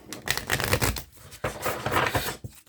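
A deck of cards is riffle shuffled twice in quick succession, a close, crisp fluttering rattle with a short pause between the two riffles.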